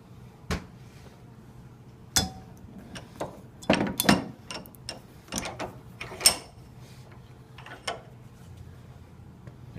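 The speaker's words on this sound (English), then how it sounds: "he's going to put the assembly upside down in the vise here, with the air motor and hydraulic assembly facing up" A hydraulic pump assembly with an air motor being handled and clamped upside down in a bench vise, giving scattered metallic clunks, clicks and ratcheting knocks at irregular intervals, close by and moderately loud, with no talking.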